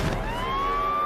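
A police siren in the Total Drama cartoon wails upward in a loud, close, rising tone lasting about a second, heard alone.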